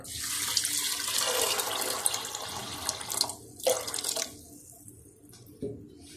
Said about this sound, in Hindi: पानी डाल रही हूँ 1 जग।